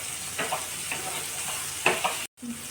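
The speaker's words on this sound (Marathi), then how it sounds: "हे कारले तळून घेते मी आता" Bitter gourd frying in oil, a soft continuous sizzle with a few scraping clicks of a spatula, close and fairly quiet, cut briefly by a short gap near the end.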